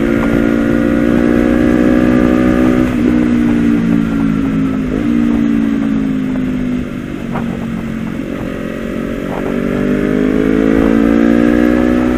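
A high-powered 2050 cc motorcycle rumbles loud and close in traffic on an Indonesian road, its engine note steady with slight rises and falls, alone without voices.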